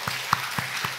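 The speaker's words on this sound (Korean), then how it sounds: "우리 남성들을 위해서 한번 격려의 박수 한번" A church congregation applauds during a sermon, broad steady clapping from many hands in a large room, moderately loud and with no voices over it.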